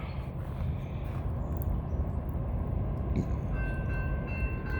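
Norfolk Southern train approaching a level crossing in Miamisburg on a rainy day, a steady rumble of rolling cars with a brief horn-like tone near the end, heard from close by beside the tracks.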